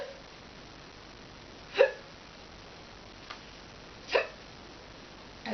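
A person imitating loud, violent hiccups, with two sharp, close hiccup sounds a couple of seconds apart and a fainter one between them, against quiet room noise.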